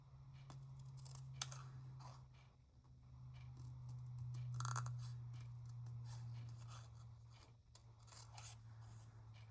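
Scissors trimming material for a Pua Moana pin craft, a quiet series of soft snips and rustling cuts repeating close by under a steady low hum, with no talking.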